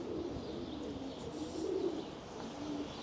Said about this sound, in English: Pigeon loft there, but yeah, lots and lots of pigeons.